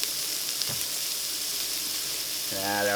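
Oil sizzles and fries steadily inside a Cosori electric pressure cooker while chicken and barley soup is being made, with a brief stir partway through and the hiss swelling louder near the end.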